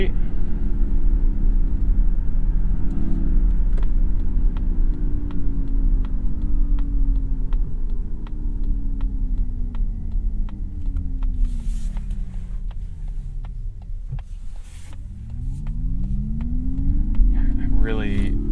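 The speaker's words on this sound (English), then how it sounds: "I really wonder if there's a way you can turn off that fake noise." Synthetic driving sound from a 2022 Mazda MX-30 electric car, a low hum and whine that glides up and down in pitch with speed, heard continuously from inside the cabin alongside road rumble.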